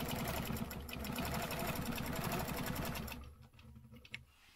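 Sewing machine stitching, a fast, steady, close mechanical whirring and clatter for about three seconds, then stopping, followed by a few faint clicks and handling sounds.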